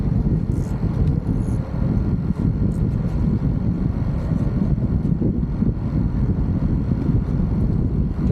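Strong gusting wind buffets the microphone on a fishing pier, a constant low roaring rumble that fills the whole stretch with no voices.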